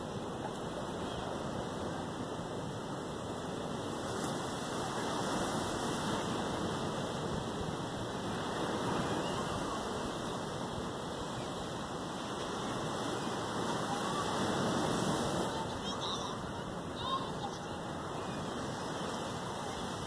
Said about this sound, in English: And I'm filming the waves. It's Florida.